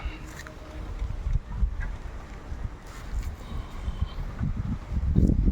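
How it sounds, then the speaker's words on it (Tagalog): Steady low rumble of wind buffeting the microphone, gusting unevenly and strongest near the end, with no voices. "Sobrang hangin dito guys, ang sarap."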